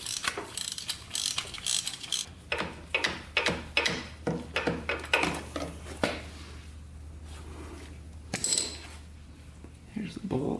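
A ratchet clicks rapidly while a 14mm oil drain bolt is loosened on a Honda ATV, with bursts of metallic ratcheting and clunks over background noise.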